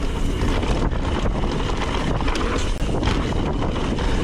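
Strong wind buffets the microphone on an outdoor trail, a loud, constant roaring rush with gusty swells and no clear voices.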